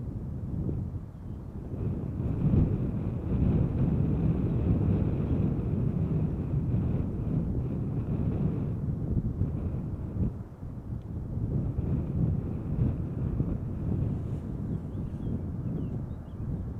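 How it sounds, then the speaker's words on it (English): An Iberia Express Airbus A320 taking off at Schiphol, bound for Madrid: a steady, broad low roar of jet engines from a distance, blurred by heavy wind buffeting on the microphone throughout. "Iberia Express in the meantime taking off from Center. Going to Madrid, A320"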